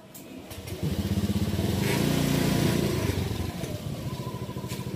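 A motorcycle used for ride-hailing work starts up and settles into a close, loud, throbbing idle with rapid regular pulses, engine running steadily after the start while a voice speaks nearby.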